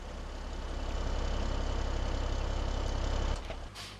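A combine harvester engine runs in Farming Simulator 17 as a steady, loud low diesel drone that holds for several seconds, then cuts down abruptly near the end with a brief click.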